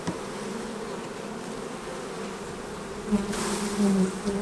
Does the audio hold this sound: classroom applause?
no